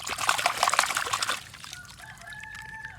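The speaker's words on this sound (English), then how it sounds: "Now I put some water so we can see some parts of any cars here" Water is poured onto toy trucks and cars, splashing in a brief noisy gush, then trickling off while a thin, high squeaky tone rises in the background.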